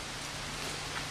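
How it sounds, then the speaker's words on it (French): Rain falls steadily on Miyajima island in Japan, a faint, even hiss of drops with no voices. "Et il y a une pluie, on voit même pas le port d'en face."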